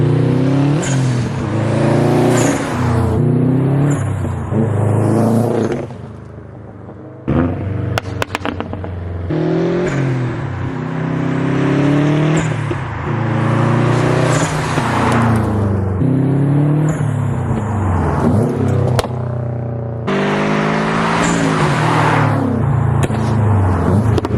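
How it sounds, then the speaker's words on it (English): A Subaru WRX STI fitted with a downpipe makes repeated close flybys, its exhaust swelling loudly as it approaches and revs, then falling away, with a short lull between passes. "Got the STI over here, and we'll do a couple flybys over here."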